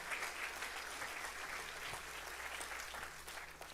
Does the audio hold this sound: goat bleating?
no